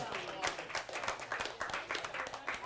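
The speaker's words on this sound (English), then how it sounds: "Give her a round of applause." An audience claps through a short round of applause at a quiz game championship. The clapping is dense, fairly quiet and continuous.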